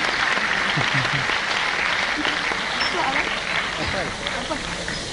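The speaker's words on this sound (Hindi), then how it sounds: "सब ताली बजाएंगे आपके लिए। ताली बजाएं।" A roomful of people at a rural IT quiz in Gandhinagar applauds a teacher with dense, lively clapping that runs throughout, voices mixing in beneath the clapping as it eases off slightly toward the end.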